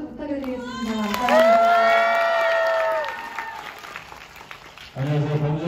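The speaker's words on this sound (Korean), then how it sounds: "큰 박수 부탁드리겠습니다." Cinema audience at a film stage greeting cheering and clapping, with high excited shouts and a swell of crowd noise that peaks, fades into lighter applause, then gives way to a voice over a microphone.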